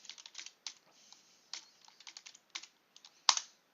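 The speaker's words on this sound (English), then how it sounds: "So we'll type in rm to remove," Quick, close keystrokes on a computer keyboard as a short terminal command is typed, irregular clicks with brief gaps and one sharper final key press, no voices.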